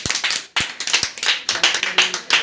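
Audience clapping at a village children's performance, a burst of sharp hand claps in uneven rhythm with several distinct louder slaps, close and lively, no voices.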